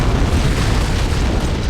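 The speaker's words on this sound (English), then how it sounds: "I'd guess an antimatter charge." An antimatter charge detonates aboard a ship in the video game Halo: Combat Evolved, a loud, dense, low rumbling boom that fills the whole moment with no pause or other sound.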